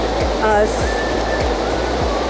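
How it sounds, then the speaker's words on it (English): A river rushes loudly and steadily behind the speaker outdoors near The Basin, a dense roar like a waterfall with faint tones and thumps mixed in. "There's a river running in back of me."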